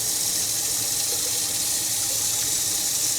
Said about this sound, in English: So what I'm gonna do is I'm gonna get rid of this water.